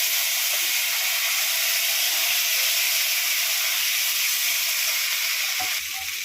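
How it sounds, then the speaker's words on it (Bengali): Dried red chillies, bay leaves and radhuni seeds sizzle in hot oil for a Bengali shukto tempering, a steady loud frying hiss throughout with a faint clink near the end. "দুটো শুকনো লঙ্কা ফোড়নে দিলাম, দুটো তেজপাতা, একটু রাঁধুনি ফোড়ন দিলাম"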